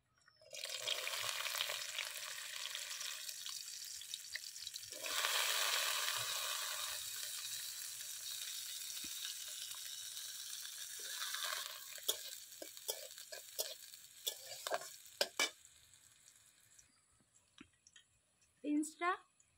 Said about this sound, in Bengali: এবারে ভেজে নেব বিনস।